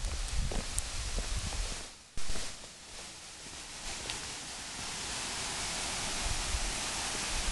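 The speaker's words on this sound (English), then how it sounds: "And there's the creek." A springtime farm creek runs with a steady broadband rush of flowing water, dipping briefly partway through before continuing evenly, no talking.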